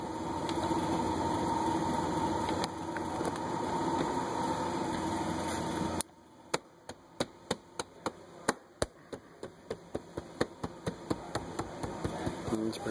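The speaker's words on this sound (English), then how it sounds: "The vehicle's running." A 2003 Ford Explorer idles with a steady, even engine hum. Partway through, the hum is joined by a regular series of sharp, close ticks, like knocks on the dashboard interior.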